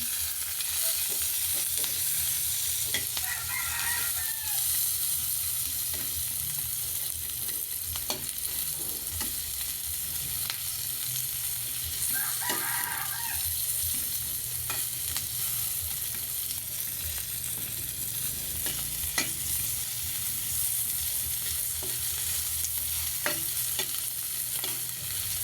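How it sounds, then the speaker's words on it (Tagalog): Food in a pan stirred and fried to brown with plenty of onion, a constant low sizzle with occasional scraping and clinking of a utensil, steady and close, with no talk. "Stir natin ng kaunti para magpa-brown siya"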